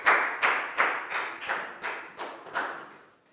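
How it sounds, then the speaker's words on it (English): Students applaud their classmate in a primary classroom, a brief burst of light clapping that rises and fades in several quick surges, fairly near and with no talk. "Big round of applause for Prau."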